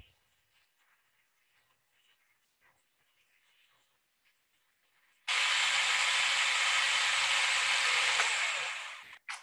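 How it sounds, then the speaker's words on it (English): A food processor whirs loudly and steadily for about four seconds, blending a dip until smooth, starting abruptly after near silence and cutting off just as suddenly. "that's all that goes in the food processor. So I'm just gonna blend it till it's smooth"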